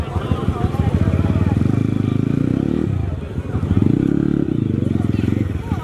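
Dirt bike engines at a ladies cross-enduro race in Nepal rev in loud pulsing bursts, two long throttle runs with a dip between, close to the microphone, with crowd and voices underneath.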